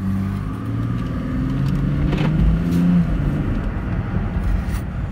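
A BMW X3 pulls away after a propshaft replacement, its engine humming and rising smoothly as it drives off, close and steady with no voices.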